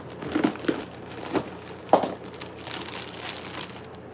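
A plastic shipping bag from an aquarium livestock delivery is cut and pulled open, producing loud crinkling and crackling of plastic in several sharp bursts followed by softer rustling, close up and without talk.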